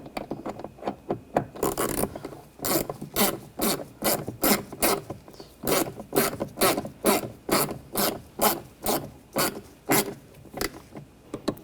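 Screws being snugged down on a rear window regulator in a 2007-2013 BMW X5 make a close, evenly paced series of sharp ratcheting clicks and rasps, repeating steadily throughout.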